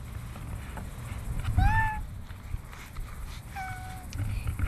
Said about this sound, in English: This is our cat named Ren.